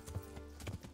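In the medieval video game Kingdom Come, a horse's hooves clip-clop in a quick, steady rhythm, quiet and close, with faint ambient background beneath.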